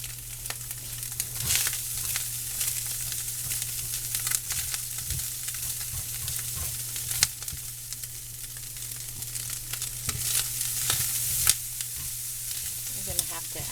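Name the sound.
frying eggs and green onion in a pan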